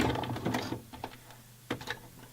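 A sewing machine back tacks stretch lace onto a longline bra in short, rapid stitching bursts with brief pauses between them, close and fairly quiet.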